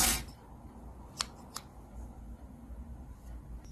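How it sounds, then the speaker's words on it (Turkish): Scissors snip through knitting yarn on a small knitted doll garment, a couple of crisp, quick cuts close by against a quiet room background. "buradan hemen ipi keserek bitiriyorum"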